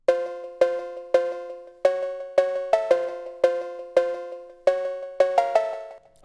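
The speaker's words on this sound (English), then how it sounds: "this is what my cowbell melody sounds like" A phonk-beat cowbell melody with light delay and reverb strikes in a clear, metallic rhythmic pattern of about fourteen hits, each decaying quickly, loud and alone.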